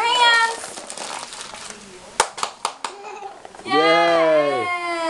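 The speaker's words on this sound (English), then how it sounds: "Clap your hands" A short burst of hand claps, about five quick sharp slaps, sits in a home setting between children's excited voices and an adult talking, with a child's sustained high vocal sound following.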